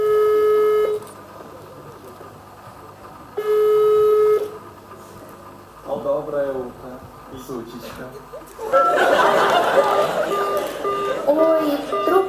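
Telephone call tones: repeated steady ringback tones, then electronic beeping, with people talking and chuckling between the tones.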